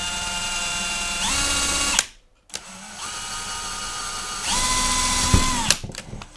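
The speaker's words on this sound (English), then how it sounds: "So what I'm going to do is just drill a hole in almost the end here." A power drill bores a hole near the end of a felt banner in two steady whirring bursts, broken by a brief pause, the motor pitch shifting slightly as it bites and then spinning down.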